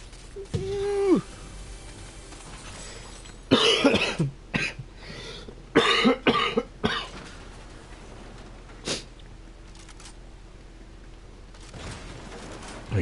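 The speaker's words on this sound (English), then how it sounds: "sorry for the cough and everything." A sick gamer coughs and clears his throat in several harsh, close bursts, some in quick pairs, separated by quiet pauses with soft breathing.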